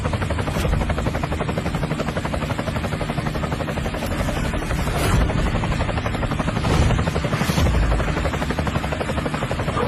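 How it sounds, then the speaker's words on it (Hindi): A helicopter's rotor chops steadily and loudly throughout, a dense rhythmic thudding with a constant engine roar, close by and continuous. "अरे ये तो करोड़ों का हेलीकॉप्टर है"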